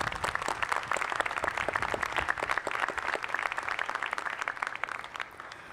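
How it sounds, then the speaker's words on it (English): A crowd applauds at a University of Iowa welcome event for new students, with steady, moderately loud clapping that fades slightly toward the end. "Please join me in giving them a round of applause."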